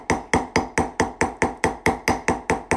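Steel stamping tool tapped with a hammer onto a metal ring blank, eleven sharp, evenly spaced metallic strikes about a quarter second apart, close and alone.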